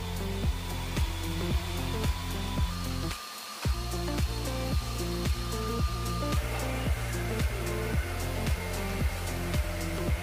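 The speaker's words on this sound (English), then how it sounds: "I could vacuum my hardwood floor" A steady motorized whir of a Dyson Ball Animal 2 upright vacuum cleaner runs throughout, with a rhythmic pulsing pattern and a brief dip in the middle, fairly close and continuous.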